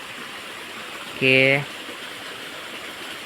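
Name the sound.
rainwater flowing through broken embankment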